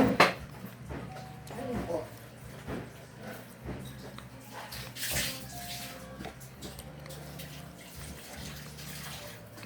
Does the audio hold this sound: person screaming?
no